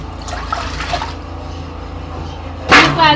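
A fish is rinsed in water, giving soft sloshing and dripping for a few seconds, then a louder splashing burst of water near the end.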